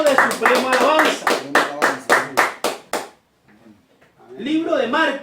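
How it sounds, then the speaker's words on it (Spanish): Church congregation members clap in a quick rhythmic pattern, about a dozen sharp, distinct claps in steady tempo, then a pause before a voice speaks. "Bríndale un aplauso al Señor Jesucristo."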